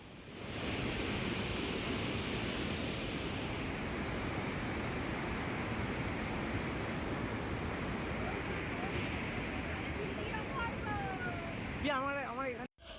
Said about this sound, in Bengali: তো দেখতেই পেলে যে জলের কতটা স্রোত, আর ওই গেটগুলো খোলা ছিল